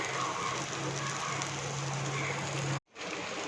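Paneer pieces fry in ghee on a dosa griddle over low flame, giving a constant dense sizzle with a faint underlying hum that cuts out abruptly before resuming.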